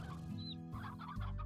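Chickens in the Slime Rancher video game give a quick run of clucks, close and clear over a steady game-music bed.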